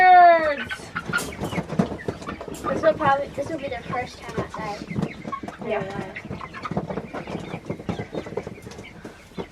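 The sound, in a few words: chickens clucking as they are released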